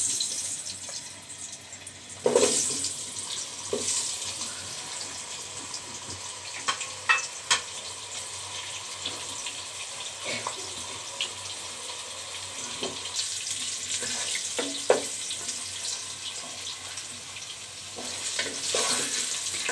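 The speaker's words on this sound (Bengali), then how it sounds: "আলুটা একদম লাল করে ভেজে নিব।" Potato pieces tossed with a little turmeric fry in hot oil for biryani, a steady soft sizzle with occasional stirring clinks and scrapes of a utensil in the pan.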